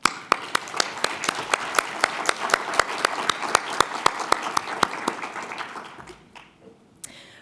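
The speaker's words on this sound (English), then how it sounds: "So let's give a big round of applause to them" Audience applause at an entrepreneurship event, a modest crowd clapping with distinct loud individual claps in a steady rhythm, tapering off near the end.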